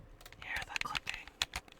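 Quick irregular plastic clicks of game controller buttons during play of Rayman Brain Games, close and fairly soft, tapping in uneven bursts with faint background noise.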